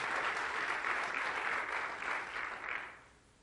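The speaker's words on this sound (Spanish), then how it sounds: "Ahora sí, denle un aplauso a Jesús." A church congregation applauds during a sermon, a broad wash of clapping that holds steady, then thins and fades out toward the end, fairly soft and distant.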